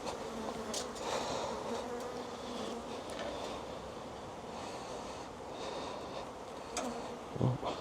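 A honeybee trapped head-first in a queen cell cup buzzes in a steady, close drone throughout, with faint handling noises around the hive frame and no speech.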